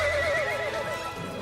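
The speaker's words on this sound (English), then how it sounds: "Are those dancing horses?" Cartoon dancing horse gives a single clear whinny up close, fading into faint hoof clatter, with no talk.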